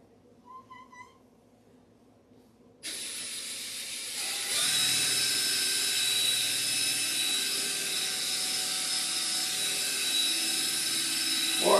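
Sanding a plastic airplane scale model, a harsh continuous high hiss that starts abruptly after a quiet stretch with faint tones, then grows fuller and holds steady at close range until the end.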